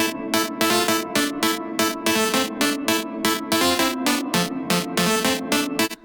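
Eerie synth processed through comb filters, distortion, reverb and compression, a dense pulsing texture with rhythmic bright bursts over a sustained low drone, loud and continuous.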